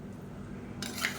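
Eggplant biryani stirred in a cooking pot from bottom to top, with soft scraping and clinking of a metal spoon against the pot, brief and close, louder near the end.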